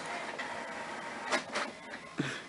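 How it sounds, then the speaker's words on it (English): An office printer running steadily through a print job, a continuous mechanical whir with a few brief louder clunks and feed noises, fairly close and with no one talking. "you can hear the printer"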